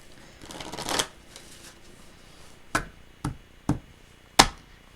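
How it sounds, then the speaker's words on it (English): Tarot cards being shuffled by hand at close range: a riffling flutter of cards, then four crisp separate snaps or taps as the deck is squared, set against a quiet room. "let's give you another shuffle"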